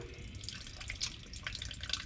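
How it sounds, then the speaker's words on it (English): Water dripping and trickling out of a Minneapolis Moline U302 tractor engine, a steady faint patter with a few brighter drips standing out, heard alone. "it's still dripping pretty good out"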